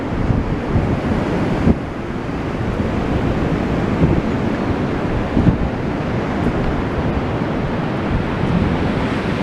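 Wild sea waves crash continuously along the Blackpool promenade while strong wind buffets the microphone, a dense, loud roar with occasional heavier surges and no voices.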